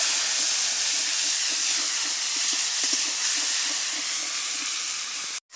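Cumin paste hits hot cooking oil and sets off a loud, steady sizzling hiss that carries evenly for several seconds, with no voices over it, before cutting off abruptly at the end.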